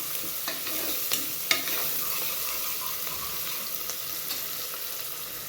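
Onions sautéing in a pan for a potato and brinjal kuzhambu, a continuous close sizzle with occasional spoon clinks and scrapes as they are stirred, no voices.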